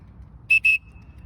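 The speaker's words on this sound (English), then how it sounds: "So when I blow the whistle" A PE teacher blows a whistle at a school line-up, two short sharp shrill blasts close together, loud and near, followed by a faint trailing tone.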